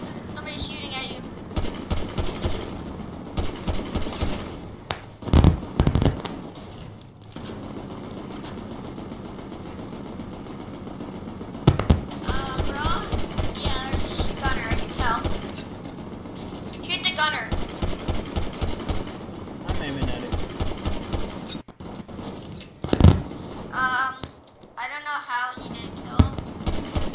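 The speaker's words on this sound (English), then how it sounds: "It's a killer, there's a killer. Or there's a shooter. Somebody's shooting at you." Rapid bursts of gunfire from Grand Theft Auto 5 crack out in repeated volleys through most of the stretch, some shots sharp and loud, mixed with game sounds while people talk over the action.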